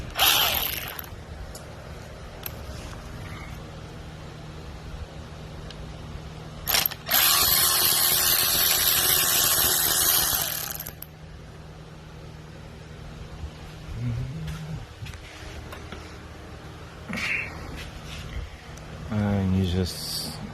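Socket wrench with a 5mm socket working on a crankshaft position sensor bolt on a BMW 650, a loud sustained burst of ratcheting mechanical noise amid quieter clicks and handling sounds, with someone talking across much of it.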